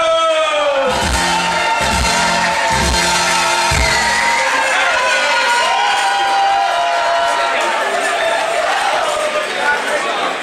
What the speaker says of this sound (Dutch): een applaus voor Zuid-Emily, de koelenmoeder